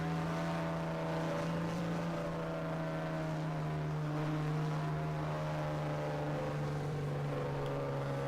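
Race car engines in an online racing game at Atlanta Motor Speedway, heard as a steady, sustained drone with a prominent low hum and layered whining tones, alone without talk.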